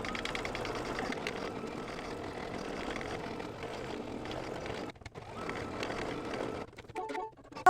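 An embroidery sewing machine stitches down appliqué fabric on a mug rug, running as a steady mechanical whir throughout with a brief dip near the end before resuming.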